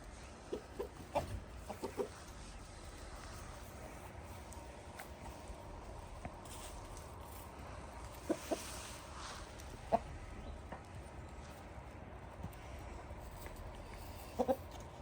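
Grass-fed chickens forage among clover outdoors, giving faint, scattered clucks and short calls at intervals over a quiet, low background.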